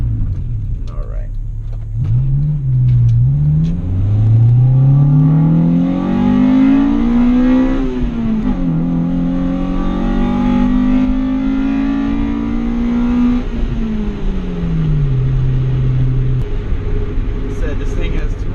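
Honda Integra GSR engine with 205,000 miles on its original motor, revving up loudly through the gears while driving, with a rising and falling pitch that holds steady before easing off near the end.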